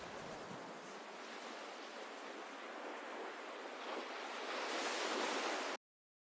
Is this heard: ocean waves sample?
yes